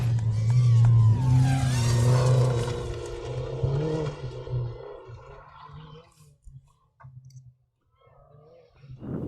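A Dodge Neon SRT4 rally car passing a spectator corner on a forest stage, its engine rising to a loud, revving roar up close and then fading into the distance, leaving near silence with a few faint clicks.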